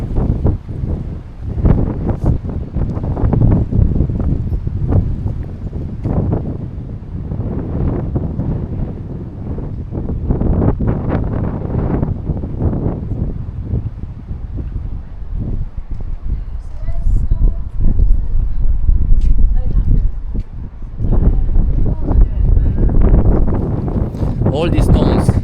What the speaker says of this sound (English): Although it's very windy, I really hope you can hear me.